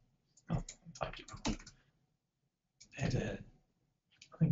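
Bursts of quick clicking keystrokes on a computer keyboard, with pauses between short runs of typing; a voice speaks quietly in the background.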